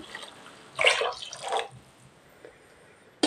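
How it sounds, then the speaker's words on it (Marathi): Hot water is poured into a pot of spicy Kolhapuri misal curry with sprouted moth beans, two short splashing pours close by against a quiet kitchen. "मिसळीसाठी लागणारे गरम पाणी मी मगाशीच तापवून ठेवलं होतं,"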